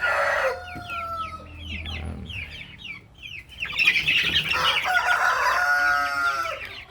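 Free-range Brahma chickens cluck and call in a lively flock, with rooster-like crowing and overlapping hen clucks rising louder in the second half, close and continuous throughout.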